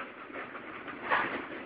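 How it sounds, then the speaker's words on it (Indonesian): Long string of sugarcane wagons rolling past at a sugar mill, a steady broadband rumble with a slight swell near the end, continuous and fairly close, with no voices. "Panjang banget gerbongnya, gerbong tebu."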